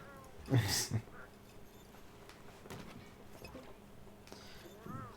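A cat in the Monster Hunter World: Iceborne video game meows in an altered, monster-like voice, one loud drawn-out call near the start over a busy game background with footsteps and clatter, and a faint second call at the end.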